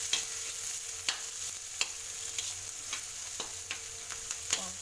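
Onions fry in a pan, a soft steady sizzle with periodic scraping stirs of a spatula every second or so, close and fairly quiet with no talking.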